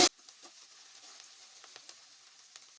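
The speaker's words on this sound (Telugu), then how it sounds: "ఆయిల్ బాగా వేడైన తర్వాత ఉల్లిపాయలు సన్నంగా కట్ చేసుకొని వేసుకోవాలి" Thinly sliced onions with rock salt fry in well-heated oil for a village-style mushroom curry, giving a faint steady sizzle with a few small pops and crackles, alone with no talk.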